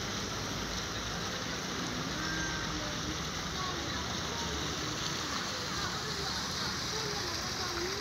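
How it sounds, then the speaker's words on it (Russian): A park fountain splashes and patters steadily in a broad, continuous wash of falling water, with voices faintly under it. "Фонтан в парке"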